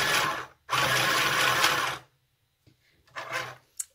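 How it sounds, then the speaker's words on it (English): A small sewing machine whirs steadily for a second or so, stops, then runs again in a shorter burst, close and fairly loud. "So I'm going to pretend to sew again."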